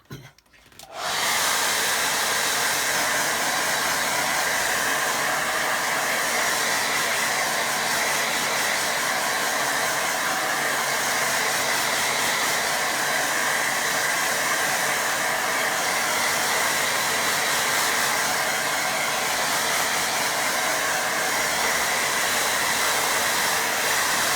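Hair dryer blowing on a watercolour painting, starting abruptly and then running as a loud, constant close-up whooshing roar for over twenty seconds without pause or speech.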